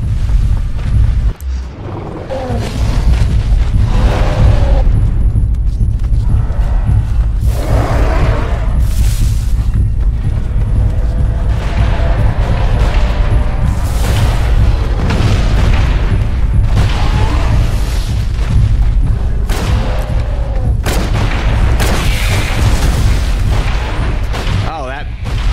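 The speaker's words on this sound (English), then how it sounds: "that bomb didn't really seem to hurt me" Bomb explosions in the video game Dinos Vs Humans: heavy booming blasts and rumbling detonations over a constant loud low roar of battle, with a few spaced impacts and a person talking at times.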